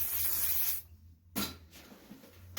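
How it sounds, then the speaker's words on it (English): A hairspray can sprays holding spray onto hair during a curling-iron styling session, giving one long hissing burst followed by two short sharp spritzes, close and fairly soft. "Then you want to go in with your holding spray."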